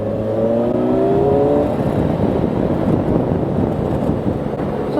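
A Triumph motorcycle engine revs up while riding, a rising harmonic whine in the first seconds that gives way to steady loud engine roar mixed with heavy wind rush, close and continuous.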